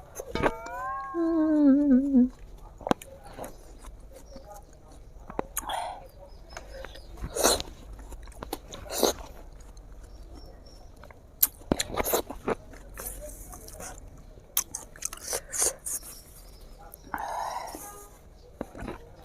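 Watermelon with milk cream is bitten and chewed in quick, close crunches and wet smacks, scattered across the clip with quiet gaps and a brief high voice at the start.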